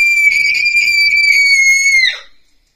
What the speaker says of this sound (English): No, don't scream!